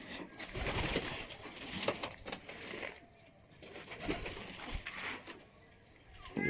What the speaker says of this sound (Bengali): এই যে আমার পায়রাগুলো দেখতে পাচ্ছ ভিতরে আছে